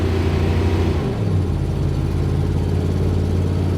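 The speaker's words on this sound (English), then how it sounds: "It takes a while to get used to it revving so high, man." A 600-horsepower ProCharged Mustang engine revs high and loud, a steady close roar that dips briefly then settles into a sustained drone, with no talking.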